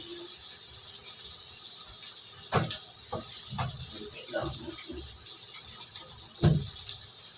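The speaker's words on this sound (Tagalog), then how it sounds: "maglagay tayo ng konting tubig." Water is poured in a small amount into a pan of chicken adobo that was fried first, giving a brief splashing trickle over a steady background hiss, with a louder splash near the end.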